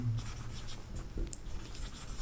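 Chalk or marker scratches against a classroom board in a short run of soft, scratchy strokes, fairly close and with no speech.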